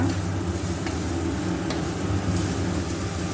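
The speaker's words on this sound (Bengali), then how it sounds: "লঙ্কা দিয়ে দেব দিয়ে দেব একটু ভেজে নেব পেঁয়াজটা" Sliced onion frying with green chili in a hot pan in a home kitchen, a steady close hiss of sizzling oil that holds level throughout with no talk.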